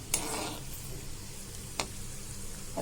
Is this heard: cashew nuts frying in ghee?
yes